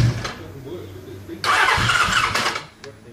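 Kawasaki Z1300 motorcycle being started during a rebuild, with bursts of cranking and engine noise that briefly catch and fade, while people talk nearby.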